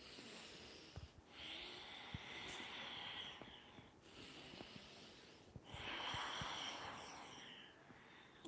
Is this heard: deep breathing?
yes